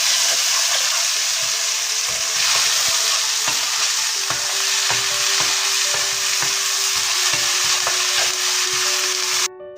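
Spice paste being stirred into frying fish curry for Andhra-style chepala pulusu, a steady sizzle with repeated scraping knocks of a spoon against the pan at a regular rhythm.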